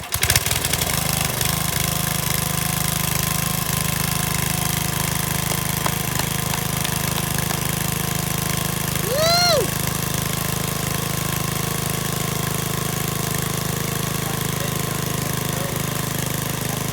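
A small petrol engine with the choke off runs steadily and loudly at a constant buzzing idle, with a brief rising whine partway through and no talk.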